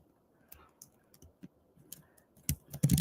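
Typing on a computer keyboard, a sparse run of quiet separate key clicks that speeds up and grows louder into a quick burst at the end.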